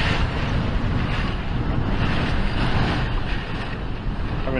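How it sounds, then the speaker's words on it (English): Loud, roaring Hurricane Dorian wind gusts batter the microphone on a St Thomas beach while water surges and splashes throughout, a constant stormy rush with no talking. "The wind is just blowing the water up"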